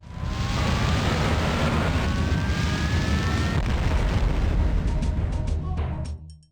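A reactor meltdown explosion in the sci-fi video game BioForge, a sustained loud roaring blast with deep rumbling, crackling bursts and a rising whine, lasting several seconds before cutting off abruptly.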